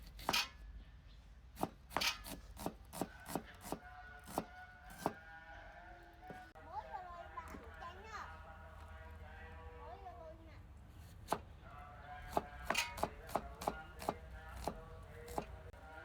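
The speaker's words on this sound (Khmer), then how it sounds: "ចឹងយើងមកហាន់ខ្ទឹមក្រហមទាំងអស់គ្នាទៀត" A knife chops shallots on a cutting board for Cambodian beef lok lak, sharp regular strikes in bursts, close and crisp, with a person talking quietly in between.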